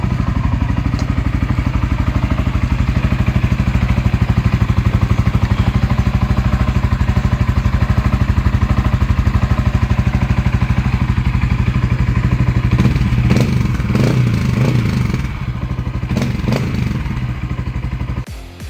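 A Yamaha Sniper 155 (Exciter 155) motorcycle engine rumbles loudly and steadily at close range, its deep Replica Pro aftermarket exhaust throbbing, with a few sharper revs and clattering bursts toward the end.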